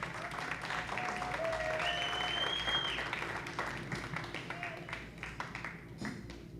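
A comedy club audience at a theatre applauds a comedian, a steady wash of clapping that swells and holds, then thins into scattered claps toward the end, with faint whoops mixed in.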